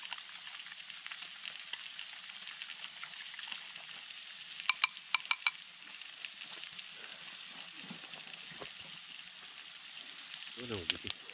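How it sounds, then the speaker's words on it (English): Onions frying in a pan at a shelter kitchen, a steady soft sizzle running throughout with a few sharp clatters of stirring near the middle and faint background voices. "I'm going to throw the onions in it"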